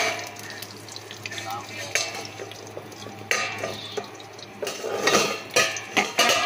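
Pan and lid clatter in a kitchen while brinjal and pointed gourd fry, sharp metallic knocks coming in bursts over a steady low sizzle, with some clinks loud and close.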